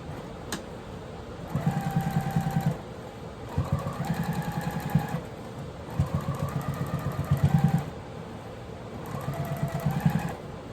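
A sewing machine stitching two rows along the bottom of a quilted jelly roll tote bag, running in repeated sustained bursts with a steady mechanical hum between them, close and even.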